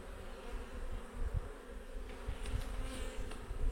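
Honey bees buzz steadily around an open beehive under inspection, a dense, continuous droning hum with no talk, holding at an even level throughout.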